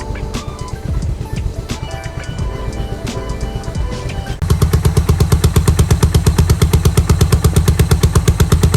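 A used Yamaha SR400 single-cylinder motorcycle engine runs loud and close, first uneven and clattering, then settling into a fast, steady pulsing thump from its single exhaust.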